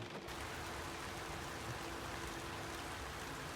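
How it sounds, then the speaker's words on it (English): Steady rain falls on the coast of British Columbia, a dense, even hiss that holds at the same level throughout with no voices over it. "Oh, look at that rain."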